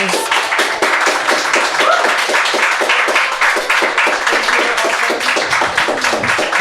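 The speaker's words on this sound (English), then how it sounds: "So I would love to give just a round of applause." A live event audience gives steady, dense applause to a panel, with many hands clapping close and loud in a continuous stretch.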